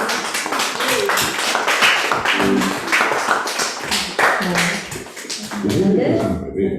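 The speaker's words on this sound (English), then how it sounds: "Give her a big round of applause." An audience at a pre-kindergarten graduation ceremony claps steadily throughout, with a person talking over the applause for most of its length.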